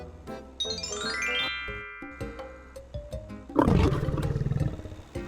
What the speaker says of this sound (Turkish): ah, işte bu onun sesi Spinky.